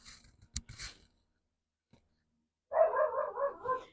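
A dog barks downstairs in a house, one short muffled bark early, then a longer louder burst of barking near the end after a quiet gap.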